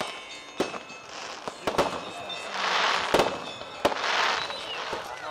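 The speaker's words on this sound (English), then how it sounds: "there's a small fireworks display." Small fireworks display at an outdoor religious gathering where a leader addresses a crowd: a run of sharp pops and bangs with fizzing crackle bursts, mid-distance, over faint crowd murmur.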